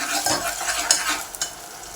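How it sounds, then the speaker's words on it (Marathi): Masala paste sautéed with softened onions in a pan gives a bright close sizzle with quick scraping stirs, a brief burst of cooking noise with no talking. "त्यामध्ये आपण वाटण टाकून घेऊया हे परतून घेऊया"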